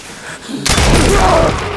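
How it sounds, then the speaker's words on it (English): A loud explosion from the 2025 film Frankenstein erupts suddenly with a broad booming blast, then a sustained rumbling roar and debris noise trailing off over the following second. "That must be what the explosion was."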